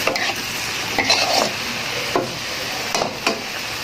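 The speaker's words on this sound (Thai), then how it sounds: "แล้วก็คลุกเขาให้เข้ากันนะคะ" Stir-fried vegetables with egg and basil tossed in a pan, a close, continuous sizzle broken by repeated scraping strokes of the spatula against the pan.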